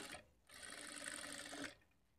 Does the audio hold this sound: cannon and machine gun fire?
no